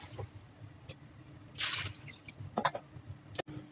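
Faint dripping and trickling of water running off washed radish as it drains, a few soft splashes and drips close by in a quiet kitchen.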